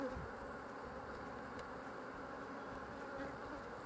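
Honey bees buzz around a hive in a home bee yard while queens are introduced to queenless colonies; the dense, steady hum is close and continuous throughout with no pauses.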